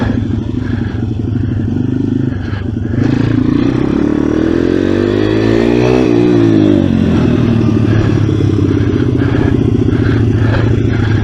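A pit bike engine is revved on the throttle at a kart racing arena, a loud, close, continuous buzzing drone whose pitch climbs and falls in a sweep midway, with rattling clatter throughout.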